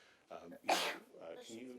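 A single sharp sneeze bursts out mid-clip in a city council meeting room, loud and close, with brief speech just before and after it.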